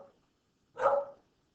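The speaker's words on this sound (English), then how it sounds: "my dog is barking bloody murder in the middle of a math video" A dog gives a single short bark, muffled and somewhat distant, as if from another room in a quiet house, with silence before and after.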